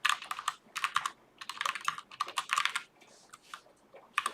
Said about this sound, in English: So let's type it out.